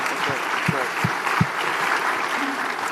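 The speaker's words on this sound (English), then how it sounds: "Let's give him a round of applause because the council passed that incredibly important bill." Town hall audience applauding the mayor after a council bill passed, a sustained crowd clapping with a few sharper close claps standing out over the continuous roar.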